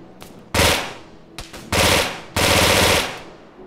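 A PPS submachine gun in Arma 3 fires three short automatic bursts of rapid, loud shots, each cut off sharply, separated by brief pauses with faint distant gunfire between.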